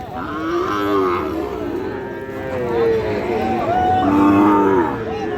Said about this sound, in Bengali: এই গরুটি